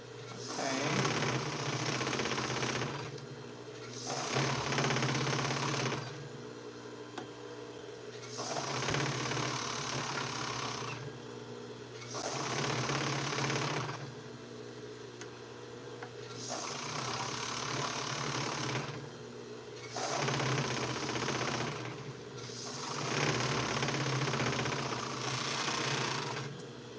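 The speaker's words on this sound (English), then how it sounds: "serge the band, and I'm not going to serge the bottom because I'm going to use my cover stitch to hem it" A serger (overlock machine) serges a fabric band for a duster sewn from Simplicity 8059, running in repeated bursts of a few seconds each, separated by short pauses, close and fairly loud.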